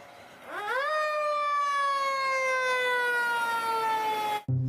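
A toy fire engine's electronic siren gives a rising wail that holds a steady, buzzy tone, close and fairly loud, then cuts off abruptly near the end.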